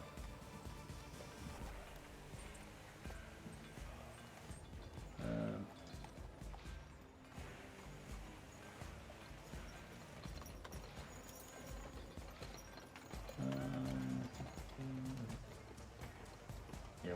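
Horses and carriages clip-clop faintly through a busy outdoor ambience, with hoofbeats and general bustle and a few louder low thumps partway through.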